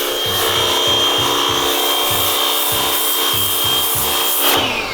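A water gun being pumped: rhythmic pumping strokes, a rubbing, wheezing scrape repeated in quick pairs, close and steady over a continuous hiss.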